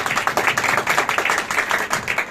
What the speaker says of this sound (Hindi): तालियां बजाएं फिर